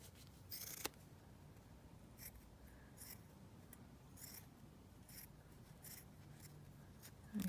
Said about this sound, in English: so I'm just going to trim this down slightly.